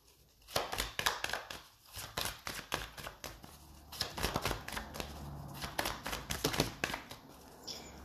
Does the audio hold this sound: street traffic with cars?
no